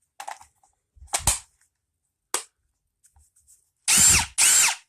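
A Ryobi P238 impact driver fires several short sharp bursts, isolated clicks first, then two longer loud hammering runs close to the microphone, with no voice.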